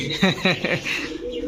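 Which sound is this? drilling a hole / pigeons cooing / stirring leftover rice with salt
pigeons cooing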